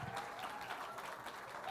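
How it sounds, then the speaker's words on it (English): Audience applause for speakers after an international crime and global security lecture session, soft continuous clapping at a low level, with faint voices mixed in. "Please give a round of applause for Professor Mike Hardy"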